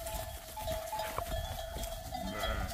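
Sheep and lambs bleat in a pasture under cork oaks, a few wavering calls over a steady background of livestock noise and faint clinking, moderately distant.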